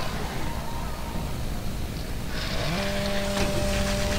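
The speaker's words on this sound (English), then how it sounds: "I've got the chainsaw now." A chainsaw revs up in DOOM 3: BFG Edition, rising into a steady buzzing drone over a dense background of game noise.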